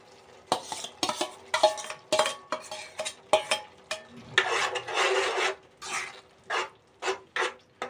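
Green peas go into a frying masala, stirred with a metal spoon in a steady run of scraping, rasping strokes against the pan, close and fairly loud over a faint sizzle, with no talking.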